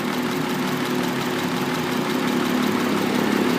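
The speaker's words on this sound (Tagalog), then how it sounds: "palyado pag binunot" Honda Accord engine idling roughly with one ignition lead unplugged, a steady close-up running drone with an uneven misfiring pulse throughout, no talk.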